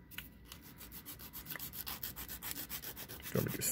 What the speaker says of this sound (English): Gonna be just sanding